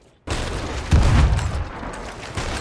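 Cannon fire booms around a pirate ship in a video game, a dense burst of blasts and rumbling impacts that swells loudly, then continues as a steady roar of gunfire.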